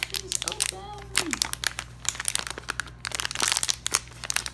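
Plastic packaging on Moj Moj mini mochi squishy toys crinkles and crackles in rapid bursts as someone struggles to open it by hand, close and busy, with a voice briefly heard.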